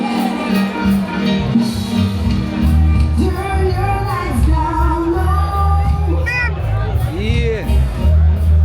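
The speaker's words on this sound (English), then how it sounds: "massive crowd." Massive crowd at a birthday concert in Emancipation Park, a dense babble of voices with shouts and whoops rising over it, close and loud throughout.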